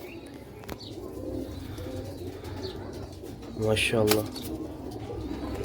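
Pigeons kept for sale coo in soft repeated phrases, with a louder close coo near the middle over a low background murmur, and someone speaks briefly.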